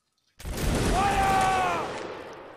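A single sharp musket volley from a Mount and Blade company, bursting loudly after a moment of silence and trailing off into a ringing, ragged echo.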